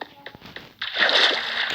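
A sheep falls into water with a sudden loud splash and sloshing, close by, after a few soft knocks and faint background voices.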